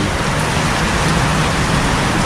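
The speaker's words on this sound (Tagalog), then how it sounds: "Umulan dito sa Kalumpit." Rain falling steadily during an e-bike ride in San Marcos, a dense, even hiss of drops with no break across the whole stretch, loud and close.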